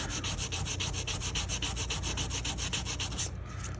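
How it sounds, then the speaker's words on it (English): Sandpaper rubbed by hand over the bolsters of a pocket knife, a close, loud, steady scratchy back-and-forth rhythm of about five strokes per second, alone and unbroken. "Put a little sandpaper on the bolsters, clean that up."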